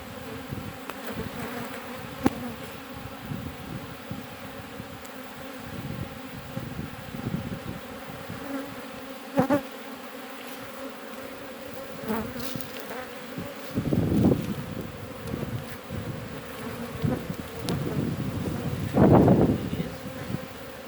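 Buckfast honeybees buzz in an open hive, a dense, steady hum from many bees close by, swelling in louder passes as individual bees fly near.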